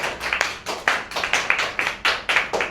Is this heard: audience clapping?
yes